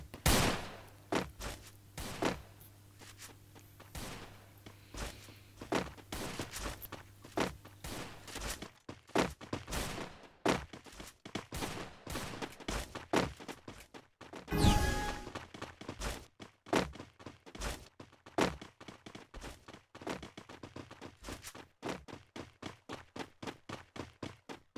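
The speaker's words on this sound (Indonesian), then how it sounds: "di sini kita pakai Desert Eagle dulu ya" Desert Eagle pistol shots in the Free Fire video game ring out in a long, steady stream of sharp reports with brief gaps, crisp and close throughout.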